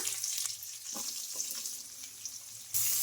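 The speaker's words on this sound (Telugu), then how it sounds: "ఇలా వేగిన తర్వాత పొడువుగా కట్ చేసుకున్న ఉల్లిపాయ ముక్కలు కూడా వేసుకుంటున్నా" Long-cut onion slices dropped into sizzling tempering in oil for a curry, a soft crackling fry with a few stirring knocks, close and fairly quiet, flaring louder at the end.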